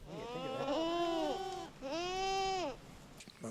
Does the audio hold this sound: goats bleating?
yes